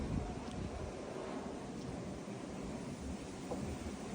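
Strong, steady wind on the coast path between Muxía and Lires, Spain, roars and buffets the microphone, a continuous rushing noise like an airplane engine, with no talk.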